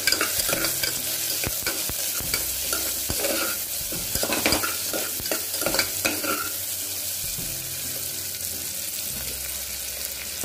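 Onions sautéing with salt in a pan for tomato rice, a steady close sizzle with repeated stirring scrapes and clinks of a spoon against the pan.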